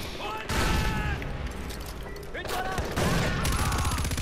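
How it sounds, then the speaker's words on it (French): Grenade blasts and dense gunfire in Far Cry 4 combat, a continuous rumbling chaotic mix of booms and rattling shots with layered game effects throughout. "Quelques petites grenades pour leur montrer qui est le patron."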